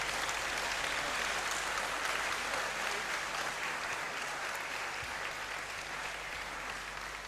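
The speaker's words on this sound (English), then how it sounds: "may we rise and give a clap offering to our parents and sponsors this day" Steady applause from graduates at a university congregation ceremony in a great hall, offered to parents and sponsors; a continuous, even wash of clapping at moderate distance with no voices.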